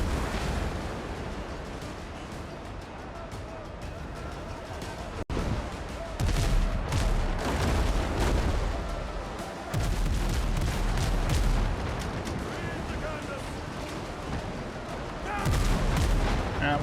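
Ship cannons firing in the video game Windrose, a long barrage of booming shots and rumbling blasts rolling over each other in waves, loud and dense, with a voice speaking briefly among the broadsides.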